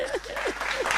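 A short burst of studio applause during a Kenyan radio station's anniversary show, with clapping close and continuous and voices audible alongside it for about a second.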